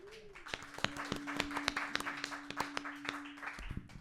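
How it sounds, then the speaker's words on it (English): An audience at a music showcase claps for a band with sparse, distinct hand claps at an uneven pace, fairly quiet and close, with a faint steady tone humming behind them. "Give them all a round of applause for us."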